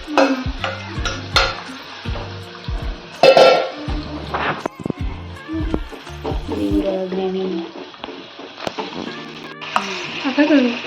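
Biryani masala gravy for chicken tandoori biryani cooks in a wok at home, with a light sizzle under clattering spoon-on-pan stirring and scraping knocks; a voice talks over it at times.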